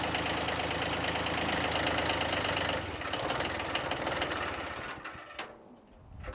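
A Kubota B1502 tractor engine idles with a steady, close, rumbling chug that fades slightly near the end, with a few clicks over it.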